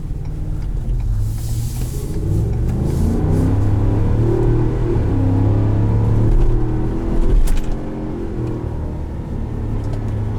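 The 7.3-litre engine of a 2020 Ford F-250 Super Duty Tremor pickup pulls hard under acceleration, heard from inside as a loud, deep rising rumble with a shift-like dip near the end.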